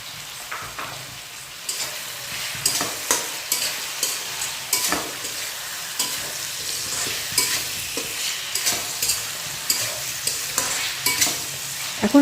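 Mixed vegetables and green peas stir-frying in a pan, a steady sizzle broken by regular scraping strokes of a spatula every second or so, close and fairly loud, with no voices.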